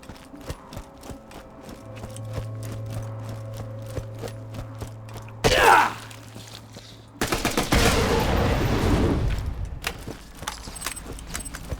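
Machine pistol gunfire in Borderlands 2, a flat-off model with a short magazine, heard as loud bursts of game shooting over a steady hum and clatter, with a sharp burst midway and a longer, dense volley near the end.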